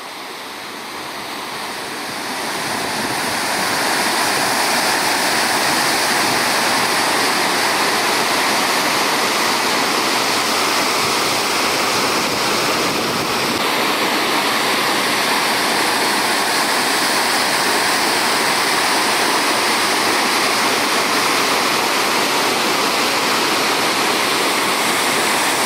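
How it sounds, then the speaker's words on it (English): Roadside waterfall along Highway 17 in Ontario, a loud, steady broadband roar of falling water that swells in over the first few seconds and then holds constant and close, with no voices. "Now that's a waterfalls."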